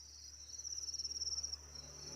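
Crickets kept in a sand-filled breeding container while a female lays eggs give a rapid, evenly pulsed trill, close but fairly soft, with no voices.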